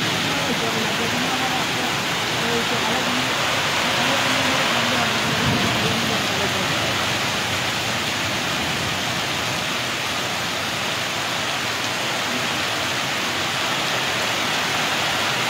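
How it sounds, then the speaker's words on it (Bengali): A sudden storm in Sylhet brings heavy rain, a loud continuous rushing wash that persists throughout, with a low murmur of voices faintly underneath early on. "এত বেশি জোরে তুফান হচ্ছে"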